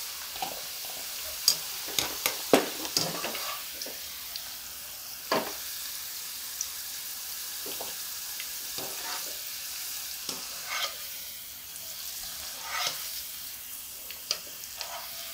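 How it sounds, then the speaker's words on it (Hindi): Potatoes frying in a pan for a winter mixed vegetable sabzi give a soft, continuous sizzle with scattered clinks and scrapes of a spoon, fairly quiet and close, without speech. "5 से 7 मिनट इसको फ्राई करेंगे। आलू भी फ्राई हो गए हैं।"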